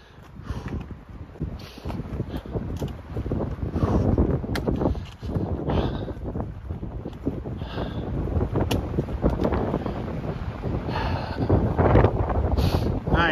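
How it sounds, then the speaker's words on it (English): Strong wind buffets a mountain ridge on Mt Barwell in the South Kananaskis Rockies, roaring continuously with gusty surges. "I feel like I'm gonna get smoked with wind"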